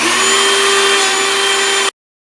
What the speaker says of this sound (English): take a little bit of green polishing compound and a polishing wheel on the Dremel, and we're going to have at it